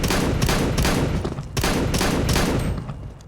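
Desert Eagle fired in CS:GO: a rapid string of loud, punchy gunshots in quick succession with a short gap, heavy and close in the mix.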